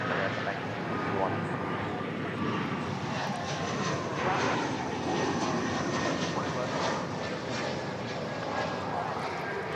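An airplane takes off from runway 18 Left at Dallas/Fort Worth airport, its engine roar a steady broadband rumble heard from a distance, with faint voices talking underneath.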